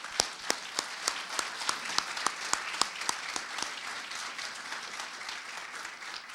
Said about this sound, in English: If we could have one more round of applause for all of our inductees